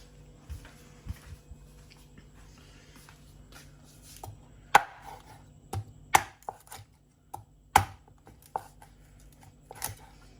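A big knife chopping through tough galangal root on a cutting board for Thai tom kha gai, irregular heavy thuds and knocks, close and distinct, with no talking.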